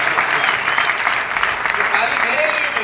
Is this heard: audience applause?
yes